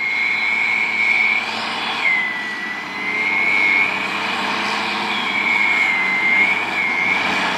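Turbocharger whine from a tractor working on silage harvesting, a steady high whistle that rises and dips repeatedly over a constant loud engine drone, with no talking.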